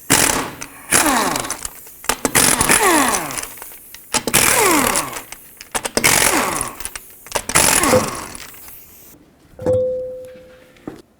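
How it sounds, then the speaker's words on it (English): Lug nuts on a 2007-2009 Saturn Aura wheel are removed with a 19mm socket on a power tool, giving loud repeated whirring bursts with short gaps, then a final winding-down tone. "I'm just going to use my 19mm socket, remove all 5 of my lug nuts, and then take the wheel off"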